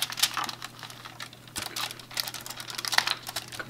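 Copper tape crinkles and is pressed onto an electric guitar's back plate, a close irregular series of soft crackling, tapping and rubbing sounds with short pauses.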